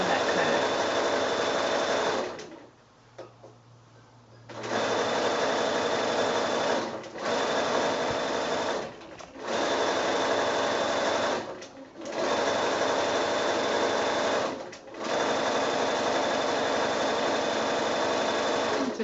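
A sewing machine stitching a quilt strip around a curve whirs steadily and close, with several brief pauses between long runs of fast, even stitching, while someone talks under it.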